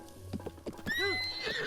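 A horse neighs and whinnies in Zelda: Breath of the Wild, with clip-clop hoofbeats, a loud rising whinny lasting about a second amid in-game ambience.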